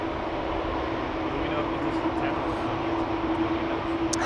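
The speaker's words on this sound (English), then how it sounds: "airplane that is flying behind it, is taxiing behind it, is the Corendon A350-900 World to Fly" Corendon Airbus A350-900 airliner taxiing at Amsterdam Schiphol airport, a steady broadband jet engine roar with a constant whine, moderately near and continuous throughout.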